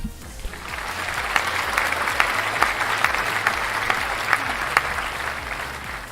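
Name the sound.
applause sound effect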